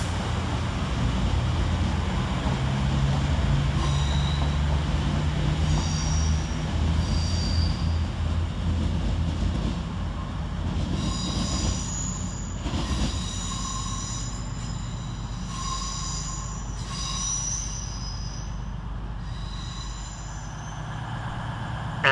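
London Northwestern Railway Class 350 electric trains at Stafford station, a steady rumble of wheels and traction motors with squealing flange tones and bright whines rising as the units move through the platform, heard alone without talk.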